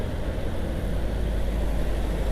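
A heavy truck rumbles past in dense Jakarta traffic, heard from a scooter as a loud, steady low engine drone with constant road noise.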